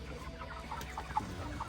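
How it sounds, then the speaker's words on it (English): Laying hens cluck softly in a dirty farm coop on Terceira Island in the Azores, scattered short calls rising over a steady low hum of the barn. "So these are the chickens for laying eggs."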